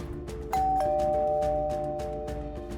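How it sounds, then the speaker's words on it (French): A doorbell sounds a clear two-note ding-dong whose tones ring and slowly fade over a soft, rhythmic background. "Le bruit de la sonnette retentit comme un glas"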